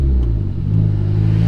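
A turbocharged Honda Accord running 10 pounds of boost gives a loud, close, low engine drone with a rumbling tone as it pulls. The note holds fairly steady through the short stretch, with no voices.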